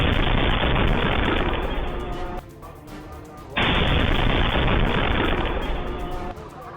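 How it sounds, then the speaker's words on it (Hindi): Gunfire crackles in footage of the attack on a Shia mosque in Islamabad, dense rapid reports filling the first stretch, a brief lull, then more bursts, all loud and harsh. "धमाके से पहले मस्जिद में पिस्तौल से फायरिंग भी हुई।"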